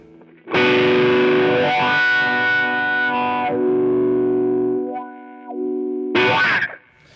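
Overdriven electric guitar chords ring out loud and sustained, a long distorted strum fading, then a short final chord stab.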